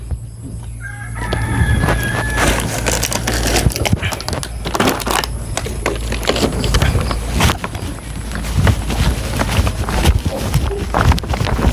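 A chicken clucks and shuffles about in a busy, noisy outdoor setting, its calls close and fairly loud over a steady low rumble and scattered clatter.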